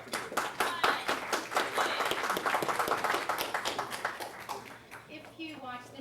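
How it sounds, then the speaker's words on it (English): Audience applause at a Louisiana newsmaker luncheon, a dense burst of many hands clapping steadily and loudly for several seconds before tapering off near the end. "Let's clap for Julie."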